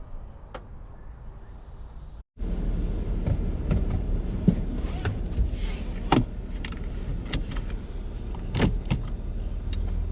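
The power tailgate of a 2021 Chevy Blazer closes after a button press: a short pause, then a steady motor whir with scattered clicks and knocks, heard close up.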